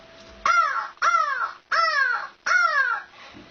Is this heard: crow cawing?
yes